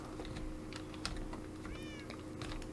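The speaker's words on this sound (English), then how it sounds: "Oh, cat." A Minecraft cat gives a short, faint, rising meow near the middle, set against steady computer keyboard clicking and a low background hum.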